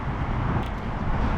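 Steady highway traffic noise roars beside a creek, a constant broadband wash of passing road vehicles with no clear individual pass-bys.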